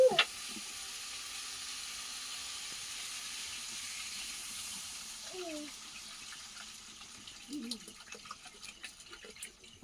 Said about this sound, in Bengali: তরকারিটা কষিয়ে নেওয়া হয়ে গেছে, এবার জল দিয়ে দিচ্ছি।